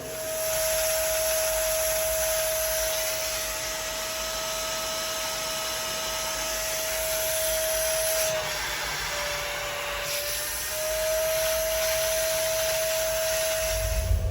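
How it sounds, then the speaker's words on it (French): Steady, loud whine of a small wet vacuum cleaner sucking water out of household plumbing pipes, with a gurgling, sucking tone that shifts briefly midway before returning to its drone. "je vais prendre mon petit aspirateur à eau et je vais aspirer"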